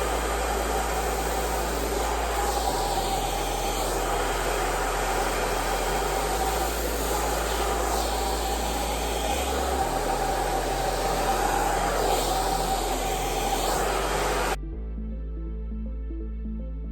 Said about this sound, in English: I put my blow dryer on my lap because I'm sitting.